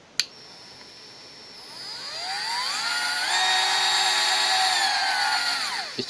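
A Parkside cordless multi-grinder from Lidl, running on a 12-volt battery, spins up with a rising high-pitched whine and then holds a loud, steady scream near the mic before winding down at the end.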